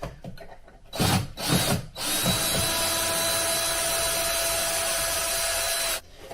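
A power screwdriver backs out screws while cordless blinds are being removed and fitted. A few thumps and knocks come first, then a steady, close whirring runs for about four seconds before stopping.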